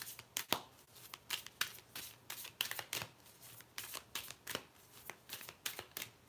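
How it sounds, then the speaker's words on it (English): Tarot cards shuffled for a reading, a steady run of sharp riffling snaps and papery flicks repeating about twice a second, close and clear with no talking. "I'm happy to pull a card for you"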